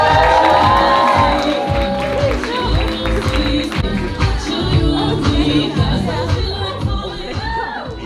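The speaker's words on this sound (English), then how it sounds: "Please give it up and clap your little cheeks for Michael" A live comedy show audience claps and cheers for a comedian, a loud, dense roar of crowd noise with whoops and babble that stays steady, then eases slightly toward the end.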